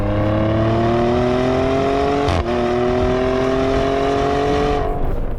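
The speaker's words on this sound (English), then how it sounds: "the engine is absolutely the star of the show, and it lets you know it every time you hit the start button" Maserati engine starting up and revving, a loud steady tone with harmonics climbing slowly, a brief break midway, then settling and fading near the end, with no talk.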